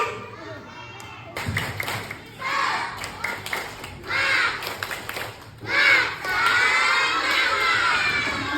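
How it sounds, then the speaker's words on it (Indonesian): Elementary schoolchildren at a school outreach session doing a rhythmic clapping chant, with bursts of loud, close group shouting and cheering alternating with sharp claps and brief pauses. "Kita tepuk semangat dulu ya biar kalian makin semangat mendengarkan materi kali ini, oke?"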